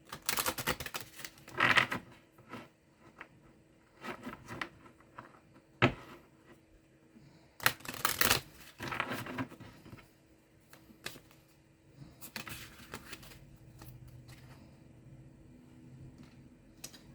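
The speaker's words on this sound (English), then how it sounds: "Shuffle one more again." A deck of tarot cards is shuffled by hand in irregular bursts of quick, crisp riffling and slapping, close and fairly faint, separated by quiet gaps with a low room hum underneath.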